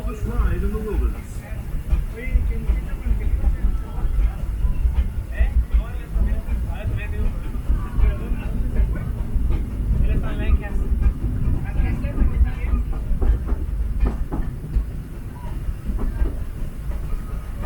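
Disneyland Railroad train running in the rain, a steady rumble and clatter of rolling cars with rain noise, while a loud voice speaks over it throughout.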